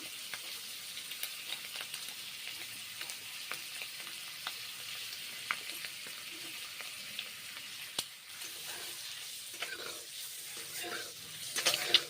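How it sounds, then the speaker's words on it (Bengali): Eggs fry in butter with black cumin seeds in a heated wok, a quiet, even sizzle with light crackles and a few soft stirring taps, no speech. "ভেজে নিচ্ছি ডিমগুলো কালো জিরে ফোড়ন দিয়ে রান্না করছি"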